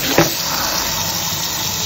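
Hot water runs from a kitchen tap in a steady, loud, close rushing stream with no talk.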